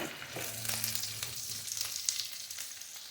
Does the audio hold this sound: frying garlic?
yes